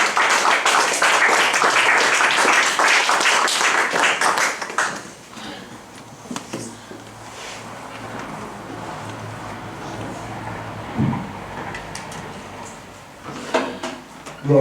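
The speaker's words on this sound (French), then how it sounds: "Applaudissons le Seigneur et accueillons la parole de Dieu" A church congregation at a Sunday sermon service breaks into dense, loud applause for about five seconds, then it fades into quieter room ambience with a few scattered claps.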